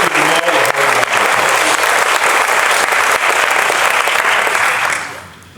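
Loud, dense audience applause fills a baccalaureate ceremony hall, holding steady for about five seconds before tapering off at the end.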